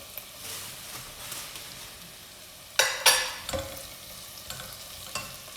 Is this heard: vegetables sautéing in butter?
yes